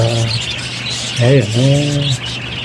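A pet bird gives a few loud, harsh, close squawks, short calls with a rising and falling pitch, heard alone.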